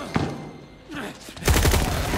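Machine gun fire from Krauser in the Resident Evil 4 boss fight: a few sharp shots early, then a loud, dense burst of rapid gunfire in the final second.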